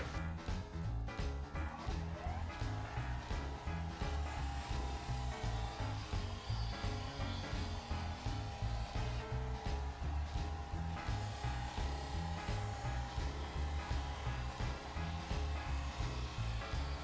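A wood lathe spins fast while a freshly honed gouge cuts a shallow birch burl bowl, giving a continuous whirring hum overlaid with a rough, rhythmic scraping as the tool bites. The sound stays steady and close throughout.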